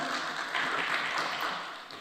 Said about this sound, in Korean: 박수 치지 마세요.